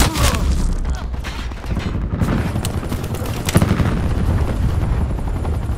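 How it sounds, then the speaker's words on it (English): Attack helicopter in the Call of Duty video game, a loud continuous rotor roar mixed with bursts of gunfire and booms throughout a busy multiplayer match on the Nuketown map. "Hostile attack chopper inbound."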